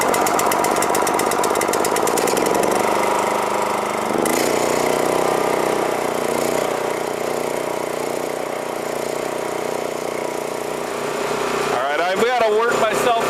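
A Power King kinetic log splitter runs outdoors while splitting maple, its engine drone steady and loud throughout with a sharp change partway, and a voice speaks over it.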